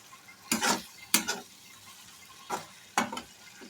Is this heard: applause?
no